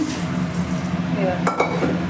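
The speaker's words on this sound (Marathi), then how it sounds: "माझी राणी भांडे घासते" Dishes and steel pots clink and knock during washing at home, with a short scrubbing rattle and a couple of clear metallic taps under a faint background voice.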